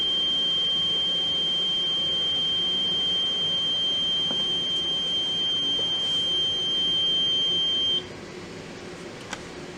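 An oil mist detector alarm sounds a steady high-pitched electronic tone continuously, then cuts off near the end, leaving a quieter mechanical hum in the background.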